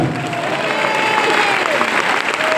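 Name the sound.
congregation clapping loudly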